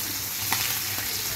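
A fish fillet pan-frying to golden brown, giving a steady, loud, dense sizzle with a faint crackle partway through. It is close and continuous, with no talking.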